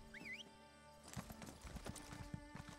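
Hooves of a spore pony mount in Elder Scrolls Online clip-clop at a trot, a brief whinny rising at the start, then rhythmic footfalls over a faint sustained music bed, quiet overall.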